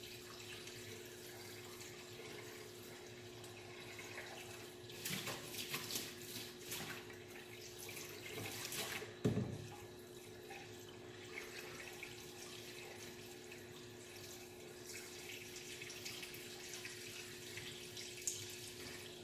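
Water runs and sloshes through a Wagner Smart Roller paint roller as it is flushed clean from the inside out, a steady splashing stream with a louder gush midway.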